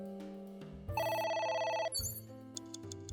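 A telephone rings in the video game AI: The Somnium Files, with one loud, close electronic ring burst over a game music score.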